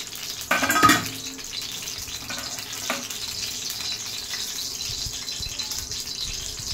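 Oil heats in a hot kadhai, about to be used for a curry of soaked pigeon peas. A brief clatter opens, then a steady, close sizzle and crackle run on evenly, with no talk.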